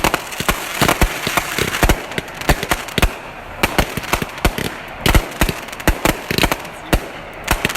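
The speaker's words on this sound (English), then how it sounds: "Lucas starts lighting fireworks." Fireworks go off outdoors in rapid, irregular bursts of loud cracks and pops, some clustered like firecracker strings, continuing throughout with brief gaps and a crackling haze between blasts.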